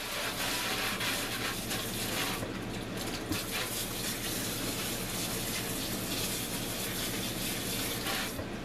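Hot water gushes steadily from a tap in a continuous, full rush, close and unbroken, with no talking.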